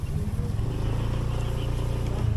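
Motorcycle ride to a riverside camping site, a close, loud engine putter with rapid regular pulsing, running continuously throughout.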